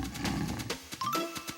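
A lion gives a brief, rough growling roar, close and moderately quiet, with no voices around it.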